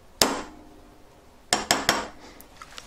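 Hammer striking a punch while making a moissanite claw earring: one sharp metallic bang, a pause, then three quick strikes in a row, close and clear.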